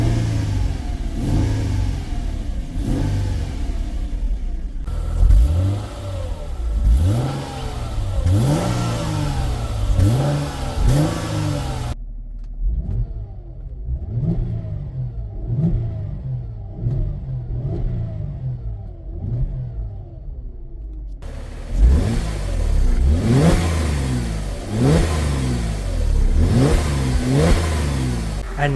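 A Mercedes engine revs over and over, each throttle blip climbing and falling back, with some quieter idle-like stretches between bursts; close, loud and without talk.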